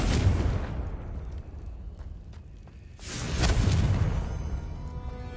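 A Confringo explosive spell goes off in the Hogwarts Legacy video game with a booming burst at the start and a second rumbling blast midway, each decaying into a low roar.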